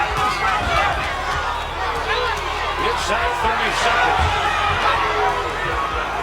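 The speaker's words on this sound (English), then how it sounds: "And the crowd hollering for Jose to throw that one punch." A boxing crowd hollering for Jose Uzcategui in the late seconds of a fight against Caleb Plant, a dense roar of cheering voices beneath a commentator's speech.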